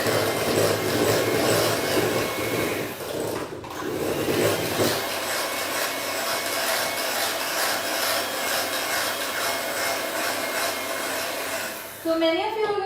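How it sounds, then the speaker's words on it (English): A whisk beats tiramisu cream mixture in a bowl, giving a steady, close scraping and swishing rhythm that carries on throughout at moderate loudness. "now we're going to give it a whisk again"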